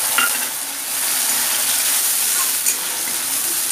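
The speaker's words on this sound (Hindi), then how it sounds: "प्याज को आराम से आपको भूनना, कम से कम 5 से 7 मिनट तक, जब तक कि इससे तेल ना छोड़े" Onion paste frying in hot oil in a pan for chole, a loud continuous close sizzle with faint stirring scrapes.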